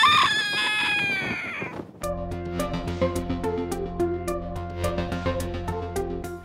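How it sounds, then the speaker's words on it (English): A backyard rooster crows once, loud and close, for about two seconds, then a bright, regularly pulsing instrumental tune takes over; no steady clucking stands out. "I got some funny chickens in this flock"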